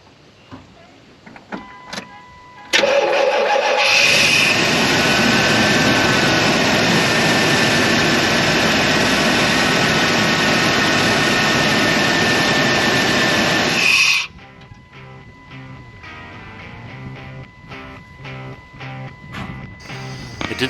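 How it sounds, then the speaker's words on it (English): A 1994 Chevy C2500 pickup's engine cranks and catches after a fuel pump and tank replacement, then runs loud and steady for about ten seconds before cutting off, with only faint background noise afterward. "Finally, it was time to see if we could start it."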